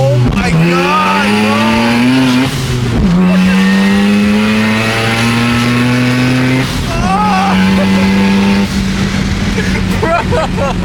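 Right-hand-drive JDM car revving hard in loud, sustained bursts with rising and falling engine pitch and crackling exhaust pops, close by, with excited voices talking over it.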